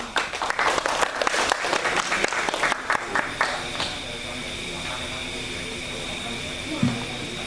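An audience at a Kulon Progo literature and theatre forum claps for a woman who has just read aloud, a dense burst of applause that thins out after a few seconds and leaves a soft hiss of room noise.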